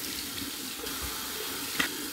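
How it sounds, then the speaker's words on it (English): A bathroom tap runs a steady stream of warm water into a sink for a rinse after shaving. The rushing flow is close and continuous, with a brief splash near the end. "Here we go with my warm water rinse."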